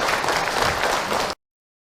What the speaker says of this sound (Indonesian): Baik, tepuk tangan lagi Bu untuk Ahilman Bu.